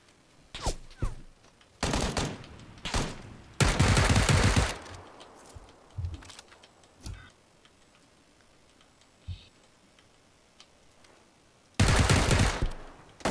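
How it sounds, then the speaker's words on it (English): Gunfire in a multiplayer shooter video game: loud, close bursts of shots in separate clusters, with single sharp cracks and quieter pauses between them, and no one talking. "I think there's somebody sniping us"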